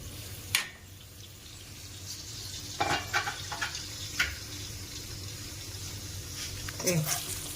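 Chicken pieces frying in hot oil give a soft, continuous sizzle with a few sharp clicks and scrapes, and a person talks over it.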